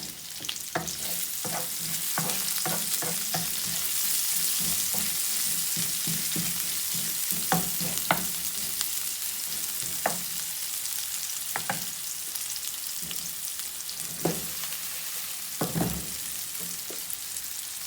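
Chopped onion being stirred in a hot pan for pinakbet, a steady sizzle of frying with repeated scraping knocks of a spatula against the pan, close and continuous with no talking.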